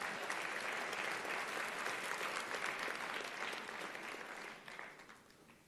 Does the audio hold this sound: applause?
yes